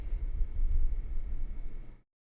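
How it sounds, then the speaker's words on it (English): An electric fan runs close by as a steady, loud broadband whoosh with strong low rumble, continuing evenly for about two seconds before cutting off abruptly into silence. "Oh, I didn't realize how loud my fan was"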